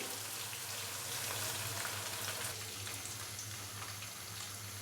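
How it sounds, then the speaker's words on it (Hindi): Ginger garlic paste frying in oil, a steady crackling sizzle heard up close and quiet, with no talk. "अदरक और लहसुन के पेस्ट को हल्का सा फ्राई कर लेंगे।"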